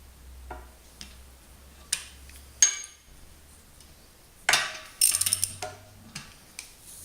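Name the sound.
ratchet turning a 19 mm socket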